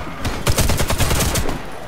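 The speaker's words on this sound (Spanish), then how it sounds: "Yo les doy a un mono como 20 tiros y ellos lo matan de dos." Rapid bursts of gunfire in the video game Comando Alfa 7 crackle in quick succession, loud and close, a mix of single shots and short automatic volleys.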